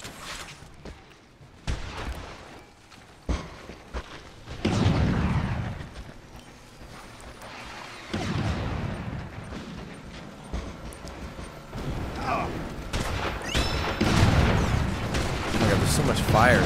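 Heavy, sustained gunfire and booming blasts in the Resistance 3 multiplayer game, loud and continuous with repeated explosive thumps throughout.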